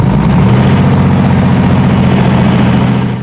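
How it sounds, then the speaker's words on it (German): A 1930s Junkers aircraft engine from the Dessau works, started with a compressed-air starter, runs loud and close with a steady, dense rumble and rapid firing pulses, fading slightly at the end. "Der Motor ließ sich nicht lange bitten und sprang sofort an."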